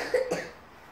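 A single child's cough, a short sharp burst followed by a quick second catch, close and fairly quiet, then silence.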